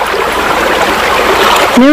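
Clothes being dipped and wrung in water during hand washing, a brief close sloshing, trickling water sound with dripping, ending in a short voice.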